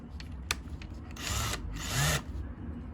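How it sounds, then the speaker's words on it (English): A power drill whirs in two short bursts, close and steady, with a small click before the first. "It's still a working drill"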